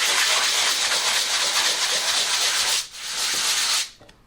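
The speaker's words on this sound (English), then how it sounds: "Now I just need to sand that." Close, loud sanding of wood with coarse 80 grit sandpaper during a heavy-duty tubular latch fitting, a steady rasping hiss of rubbing strokes that pauses briefly near the end.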